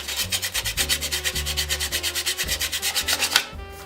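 Steady back-and-forth hand sanding of a found pine Christmas ornament, with close, loud, evenly rhythmic rubbing strokes that continue for several seconds before stopping abruptly.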